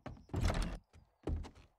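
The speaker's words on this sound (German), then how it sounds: "So, eine Tür." A door in the video game 7 Days to Die opens and shuts with a few short, close thunks and a sliding scrape, two brief bursts with a small gap between them.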